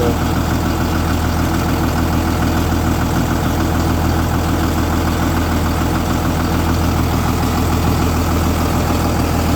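Mitsubishi turbo engine idling steadily after a check-up, a loud continuous low rumble with an even, slightly knocking pulse, close by throughout with no pauses.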